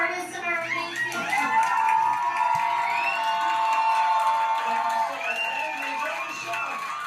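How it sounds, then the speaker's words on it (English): A drag night audience cheers, whoops and shouts steadily and loudly, with clapping mixed into a dense, sustained crowd roar that holds for several seconds before easing slightly. "let's give a big round of applause for our artists"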